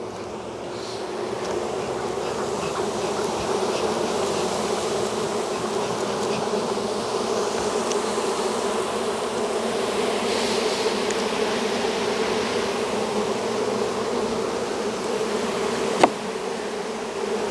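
Honey bees buzz in a steady, dense drone during a spring hive inspection, close and continuous throughout, with one brief sharp click near the end.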